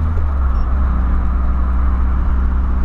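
A Volkswagen Voyage car accelerates on the road with a steady, loud, low engine drone and road rumble heard from inside the car.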